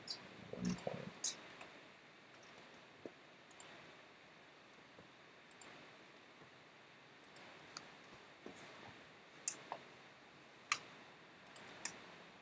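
Sharp computer mouse clicks while lead scoring is set up in ActiveCampaign, coming singly and in quick pairs at an irregular pace, close and crisp over a quiet room.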